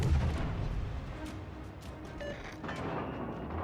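Naval guns fire in a warship battle video game featuring the Italian cruiser Attilio Regolo, a dull boom at the start followed by a steady rumbling wash of distant battle noise.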